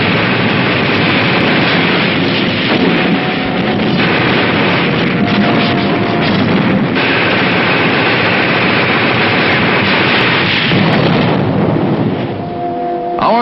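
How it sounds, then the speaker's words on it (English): Artillery guns trading fire in a battlefield duel during the invasion of southern France, a continuous loud rumble of booms and blasts on an old, band-limited film soundtrack. "Our artillery engaged in a duel with enemy guns."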